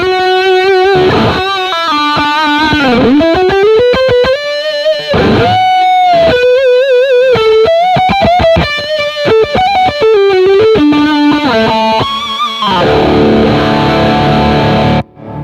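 Electric guitar through a MESA/Boogie JP-2C on channel 3, dry, playing a loud, high-gain lead line of sustained, singing notes and quick runs, ending on a held chord.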